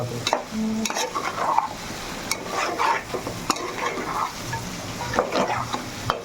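Curry frying in a pan in a home kitchen, with steady sizzling broken by repeated stirring scrapes and occasional utensil knocks, fairly close.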